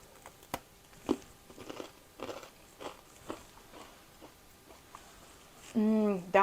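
Crunchy bites and chewing of crispy, browned sourdough grissini seasoned with everything bagel seasoning, sharp crackling crunches spaced through the clip, close to the microphone, with a brief voiced sound near the end.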